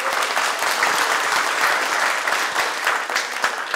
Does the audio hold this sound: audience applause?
yes